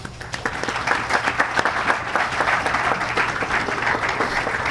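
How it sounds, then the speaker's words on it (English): A crowd applauds steadily at an awards ceremony, many hands clapping together in a lively, close patter for a few seconds. "Please applaud Woman Constable James."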